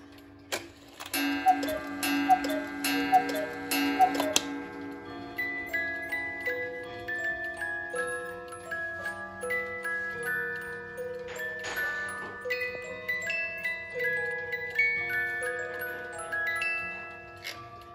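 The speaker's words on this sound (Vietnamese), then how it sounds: "bắt đầu chúng ta sẽ đi cho chiếc đồng hồ nó hoạt động các bác nhá" A new German cuckoo clock ticking steadily in a room, its even tick-tock beat running throughout, with chime-like ringing tones near the start and faint bell notes later, no speech.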